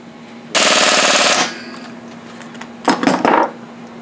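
Rapid, loud metallic hammering strikes seized bolts on a Rotax jet ski engine, first in a sustained rattling burst of about a second, then a shorter, choppier burst after a pause.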